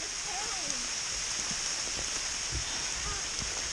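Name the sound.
hail and pouring rain outdoors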